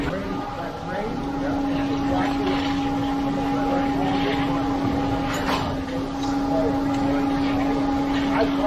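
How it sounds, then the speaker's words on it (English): Steady mechanical drone from a concrete pump truck pumping on a floor pour, with a constant engine hum and tonal whine that holds throughout, and muffled voices underneath. "let's pump out what we can without him dumping any"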